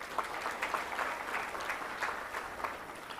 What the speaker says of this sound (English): Can we give ILO a round of applause?